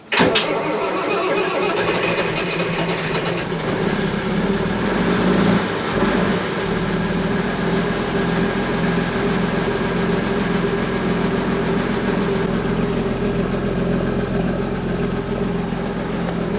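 Cold start of an old ERF lorry diesel. It begins with a sharp crank and catch, then settles into a loud, steady, throbbing idle that runs on close by, with no voices.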